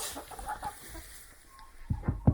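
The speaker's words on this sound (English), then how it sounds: "It's a chicken in a box." A chicken kept in a box lets out a few short, low clucks near the end, fairly close but quiet, with a faint background hum.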